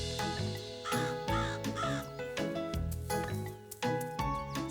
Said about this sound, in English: Oh, those pesky crows.